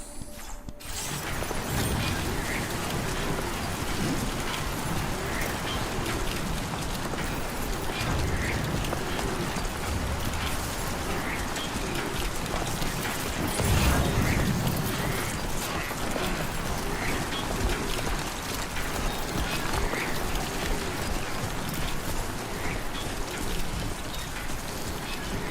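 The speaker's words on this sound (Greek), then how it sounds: "Τέλος η βροχή." Rain pours down in Death Stranding 2 on PS5, a dense, continuous hiss and patter that runs without pause, joined by faint mechanical creaks and clicks, with a brief swell of heavier noise midway.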